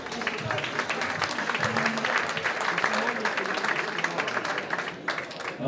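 Audience applause for Philippe Grand, president of the Compiègne sports office, at the Picantins festival; continuous dense clapping fills the room with some voices underneath.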